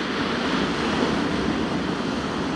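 Sea waves wash against the shore during shore fishing with a steady, broad roar of surf mixed with wind noise, continuous and fairly loud throughout.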